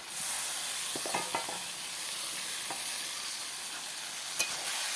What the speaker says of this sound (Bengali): ঝিঙেগুলো সব ভেজে রেখেছিলাম, এইবার আলুর মধ্যে দিয়ে দেবো।